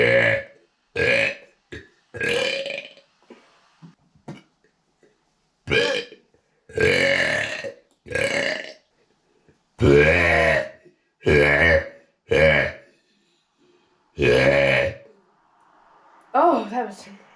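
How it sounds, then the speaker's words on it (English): A string of about a dozen loud, close burps, some short and some drawn out and gurgling, separated by brief silences. "today we are doing another burp video"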